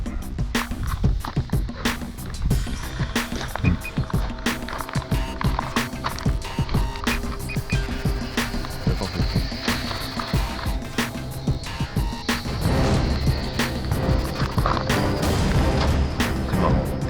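A T2M Sport Cub 400 small electric RC airplane set to full throttle on an open flying field, heard amid dense rattling and clattering bursts that continue close and loud without pause.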